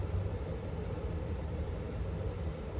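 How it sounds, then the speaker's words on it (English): A steady, muffled roar of heavy rain pours down without pause, dense and low, with no voices over it. "Yeah, it's pouring down rain."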